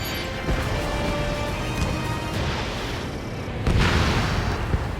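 In the video game Ace Combat 7, a UAV is destroyed in a loud, dense explosion, a rumbling blast that swells near the end over steady roaring background noise.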